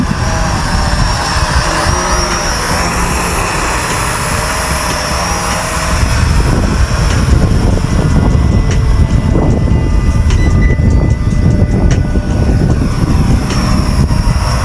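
A Tech RC Hornet 5.8G FPV quadcopter drone buzzes in strong wind, its high whining motors steady and close, with heavy low wind rumble buffeting the microphone and growing rougher midway.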